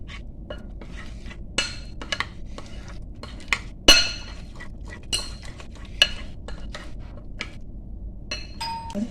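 A spoon stirs masala paste mixed with peanut powder for a stuffed brinjal curry, giving soft scraping with scattered sharp metallic clinks against the pot, near and irregular.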